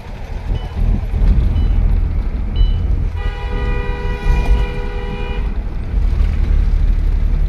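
Car driving at night on the road to Sardar Sarovar Dam, a loud steady engine and road rumble with a long sustained horn blaring over it for a couple of seconds.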